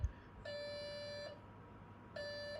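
A Nokta Deep Hunter metal detector under repair gives two steady electronic beeps on a target, each lasting under a second, clear and close over a faint hiss.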